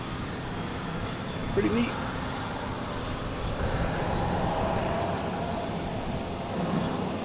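A JetBlue airliner in a special employee-tribute livery at Boston Logan Airport gives off a steady, distant jet roar that fills the background while a person talks briefly over it.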